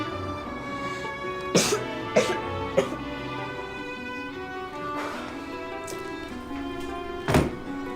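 Several short, muffled coughs come in scattered bursts, a quick cluster of three followed by two more after a pause, over a low steady hum.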